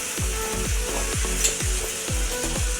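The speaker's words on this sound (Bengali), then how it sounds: "এখন আমি এর মধ্যে দিয়ে দিচ্ছি আগে থেকে সিদ্ধ করা কাঁঠাল দানা" Boiled jackfruit seeds tumble into a pan of frying spice paste for a vegetarian dal-style dish, giving a steady close sizzle broken by regular scraping stirs roughly every half second, with no voices.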